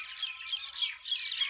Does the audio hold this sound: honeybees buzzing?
no